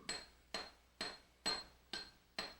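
A hammer's flat face strikes annealed copper strip laid over a threaded rod, pressing the metal into the threads: six sharp, ringing metallic blows at an even, quick pace, close and alone.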